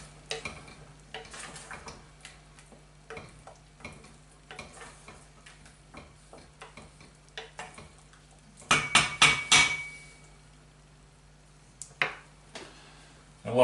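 Mushrooms and shallots stirred in a pan with a utensil, light scrapes and taps with a faint sizzle underneath, growing into a louder cluster of scraping around the middle and ending with a few sharp clinks.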